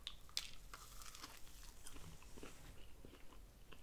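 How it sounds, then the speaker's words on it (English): Someone bites and chews a Hardee's steak biscuit up close, a soft crunch at the first bite followed by quiet, wet chewing at a low level. "It's been a long time since I tried a steak biscuit from Hardee's."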